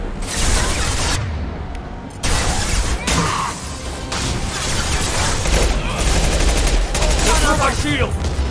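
Sustained heavy gunfire in Mass Effect 2, dense bursts of automatic weapons and loud impacts in combat, loud and continuous with a brief lull, mixed with battle noise and occasional character voices.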